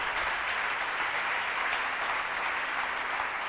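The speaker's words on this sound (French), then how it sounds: "Acclame bien parce que Dieu est grand." A church congregation at a Bible study session applauding together, a dense, steady wash of many clapping hands sustained throughout, with no speech over it.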